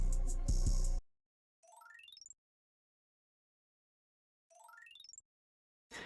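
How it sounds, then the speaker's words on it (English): A brief burst of fuller music, then two quick rising runs of bright, bell-like mallet one-shot notes in a dark, spacey trap beat, separated by silence. "this is what the mallet sounds like"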